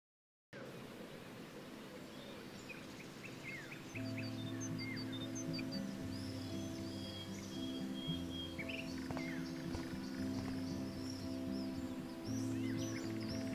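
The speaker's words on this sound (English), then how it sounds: "The birds are flocking around Samuel." Birds chirping in the video game Life is Strange, scattered small tweets and calls over a steady ambient hiss and layered low game music.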